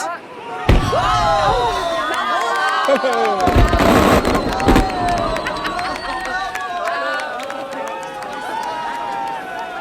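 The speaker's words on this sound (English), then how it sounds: "Now he ignites the cannon to scare away the Turks for one more year." A cannon is fired at the end of a festival: a sharp blast followed by a longer, louder booming burst over a noisy crowd, with whistling tones and voices around.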